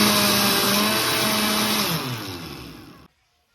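A blender whirs loudly while liquefying a watery plant-food mix, the motor pitch dropping as it winds down, then cutting off abruptly into silence.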